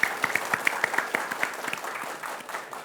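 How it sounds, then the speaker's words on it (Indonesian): A studio crowd at a TV quiz show applauds the jury in a short burst of scattered clapping that tapers off quickly. "tepuk tangan untuk Dewan Juri hari ini"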